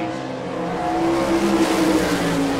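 Todd Gracie's number 25 sprint car, a J&J chassis with a Singer Ford engine, on a qualifying lap at the Rossburg, Ohio dirt track, its engine note droning steadily and rising slightly in volume throughout, with no talk over it.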